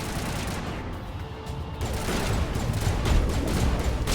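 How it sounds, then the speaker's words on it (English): Sustained dense gunfire from the Mass Effect video game, a loud continuous rattle of shots building toward the end with no speech. "Stop shooting!"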